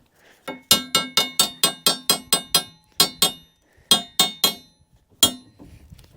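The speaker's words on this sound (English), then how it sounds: "I need a hammer to bash these." Sharp metallic hammer blows ringing on rusty steel leaf springs from a 1980 Dodge W150 plow truck, a fast run of about nine strikes, a short pause, then more clustered hits; close and loud.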